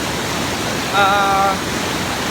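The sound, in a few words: Tujuh Bidadari waterfall in Aceh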